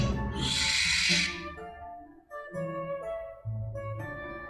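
A barn owl gives a single harsh, hissing screech, followed by a few lower, tonal calls and noises that rise and fall over several seconds.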